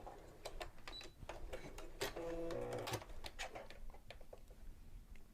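A sewing machine fitted with a rolled hem foot stitches fabric in a short quiet burst of rapid mechanical whirring amid faint clicks and handling noises.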